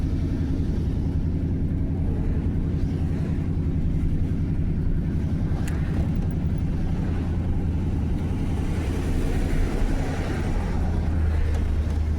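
A car engine drones steadily and loudly as it cruises down the road in third or fourth gear, a constant low rumble with no pauses.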